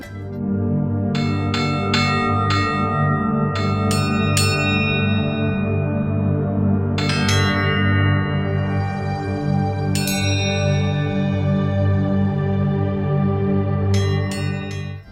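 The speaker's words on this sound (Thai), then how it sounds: "ระฆังสอง" A struck bell sample from a Kontakt library of northeastern Thai (Isan) instrument sounds: several loud, bright strikes that ring out with long shimmering sustain, heard alone.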